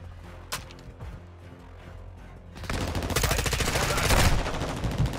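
Bursts of rapid gunfire in Call of Duty: Modern Warfare II, sparse early on, then a loud sustained volley of automatic fire over the second half.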